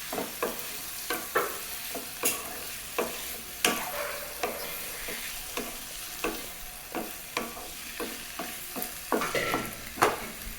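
Two chopped tomatoes are stirred into a hot sizzling pan, a spoon scraping in a slow regular rhythm of sharp knocks and scrapes over a constant soft fry, close and clear, with no talking.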